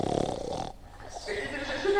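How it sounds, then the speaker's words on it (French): Loud snoring from two policemen in an audiobook sound effect, with a rasping, snorting breath at the start followed by a second, smoother snore. "Ce que vous entendez, ce sont les 2 policiers qui ronflent."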